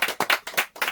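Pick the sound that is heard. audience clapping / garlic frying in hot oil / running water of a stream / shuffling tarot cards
audience clapping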